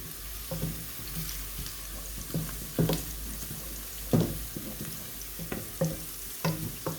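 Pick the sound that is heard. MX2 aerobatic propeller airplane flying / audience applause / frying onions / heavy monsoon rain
frying onions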